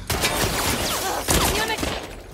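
Rapid bursts of gunfire in The Last of Us Part II, dense overlapping shots with a sharp crack in the middle, against loud continuous combat noise.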